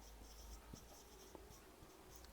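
Chalk or marker writing on a board during a physics lecture on light, a faint scratchy series of short strokes in a quiet room, with no one talking.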